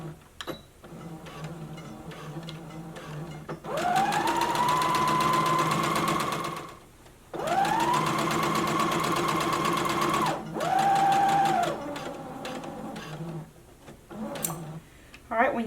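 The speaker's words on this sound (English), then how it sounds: "Lowering my needle, begin sewing, back stitch, and stopping once we get to our stopping pin." A sewing machine stitches a maxi skirt in three sustained runs, its whirring motor rising in pitch as each run starts and cutting off between bursts, with a quiet voice talking in the pauses.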